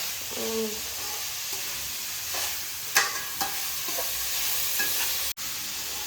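Bitter gourd curry sizzles and hisses steadily in a pan, with a few sharp clinks and scrapes of stirring scattered through the steady frying noise. No voices are heard.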